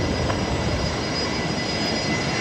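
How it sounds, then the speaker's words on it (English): A Qantas A380 departs Brisbane Airport, a broad, steady jet roar heard from a distance, continuous and unbroken throughout with no voices. "There's Qantas A380 departing down to Melbourne this morning"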